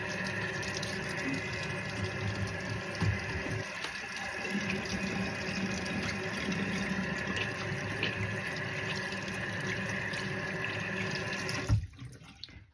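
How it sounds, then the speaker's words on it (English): Tap water runs steadily into a sink while hands are washed beneath it, a continuous close splashing hiss lasting several seconds before the flow is cut off abruptly near the end. "I have to wash my hands."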